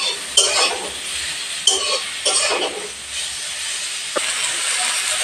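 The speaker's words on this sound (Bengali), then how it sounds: "বেগুন ভেজে নেব।" Eggplant frying in a pan with oil, a steady sizzling hiss broken by a few louder bursts and scraping stir sounds.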